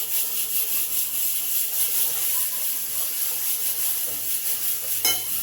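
Chopped onion frying in hot oil in a pan while cooking chole, a steady close sizzle and hiss throughout, with a single metallic scrape of stirring near the end.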